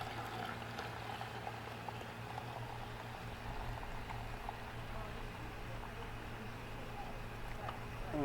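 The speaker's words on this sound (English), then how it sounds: "So it is time to pour off some of this dirty water" Dirty water pours off a bucket of refining material from gold recovered from BGA RAM chips, a steady faint bubbling, splashing stream that runs continuously and close by, with no other sounds over it.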